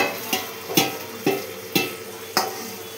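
Mutton being stirred in a cooking pot for a slow-fried Bengali curry: five evenly spaced scraping strokes over a soft, steady sizzle, close and distinct.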